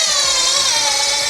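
Power drill driving screws into a wooden table being converted from a grill cart, a loud, close, steady whirring motor sound held without a break.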